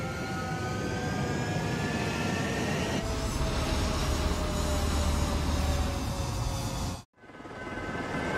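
Jet fighter taking off in the video game Ace Combat 7, a steady loud engine roar with a rising whine building over several seconds, then cutting abruptly before resuming.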